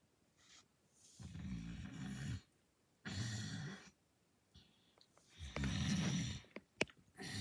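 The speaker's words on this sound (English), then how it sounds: "I think he's snoring." Loud, rumbling snores from a sleeping boy in a twin bed, heard as three long droning bursts with pauses, followed by a few sharp snorts.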